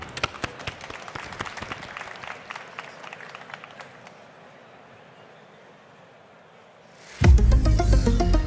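Loud audience applause and cheering erupt near the end at a startup founder stage event, following a stretch of scattered clapping and a quieter lull.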